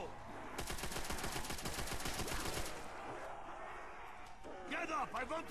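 Rapid automatic fire from a submachine gun in Call of Duty zombies on the Verruckt map, a dense burst of shots lasting a few seconds, then game noise and groaning zombies take over.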